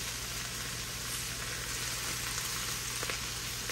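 Chicken pieces and onions sizzle steadily on a George Foreman grill, a constant close hiss of frying with a few faint clicks and no talking.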